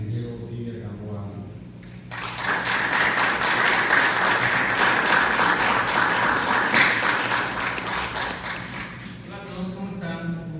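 An audience bursts into loud applause at a lecture on generative artificial intelligence, the broad clapping holding steady for about eight seconds before fading, with a voice heard briefly before and after.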